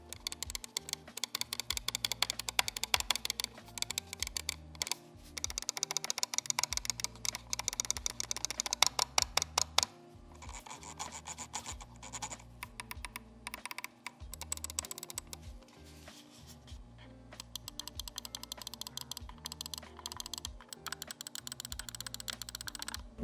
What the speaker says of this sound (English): throw you guys into a sound test now